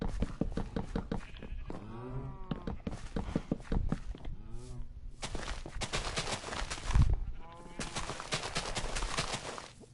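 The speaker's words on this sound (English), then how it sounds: "A lot of noise from the pigs, isn't it?" Pigs on a farm in Minecraft Bedrock edition, giving repeated grunts and oinks in overlapping bursts, fairly close and moderately loud, with a few louder squeals mixed in.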